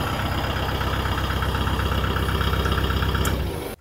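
A tractor engine idles steadily at a Vermont off-grid road build, a low rhythmic mid-pitched chug running close and constant before cutting off abruptly near the end.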